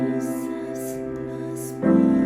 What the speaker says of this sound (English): Another way, make it a little bit more fancy, a little bit more jazz feeling chords.